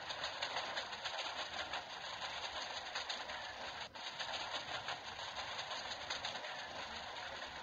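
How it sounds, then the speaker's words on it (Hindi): Steady train running noise in an Indian train simulator game, a continuous faint rumble and hiss with no speech, running on a Kanpur to Allahabad route. "अच्छी खासी स्पीड में चल रही है हमारी ट्रेन"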